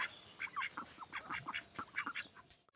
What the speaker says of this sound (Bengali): এখানে অনেক হাঁস আছে।